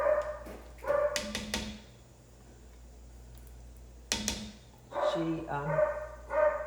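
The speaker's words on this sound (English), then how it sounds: "I have no idea what my dog is barking out there." A dog barks a few times in short bursts, somewhat distant as if outdoors, with a voice talking over parts of it.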